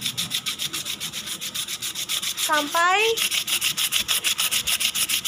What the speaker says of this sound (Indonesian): haluskan atau amplas bambu yang telah dipotong dan didesain